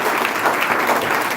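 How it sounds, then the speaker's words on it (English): Audience applause for food caterers cooking at a community gathering, a steady, dense wash of clapping that holds at an even level through the short stretch. "Give them a round of applause over there cooking."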